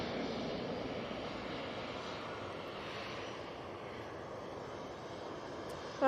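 EasyJet airliner taxiing at Manchester Airport, a faint low engine rumble and soft hiss that stays steady and distant throughout, with no speech.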